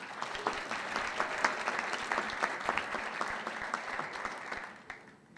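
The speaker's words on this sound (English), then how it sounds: "Applause." A comedy roast audience applauds steadily for several seconds, a dense close wash of many hands that tapers off near the end, with no talk over it.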